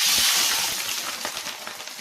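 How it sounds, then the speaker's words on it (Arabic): Sliced onions frying in hot oil in a pan for Egyptian koshari, a close, continuous sizzling hiss with faint crackles and pops, steady and alone without talk. "اول حاجه بنبدا نعملها هي البصل، نحمره."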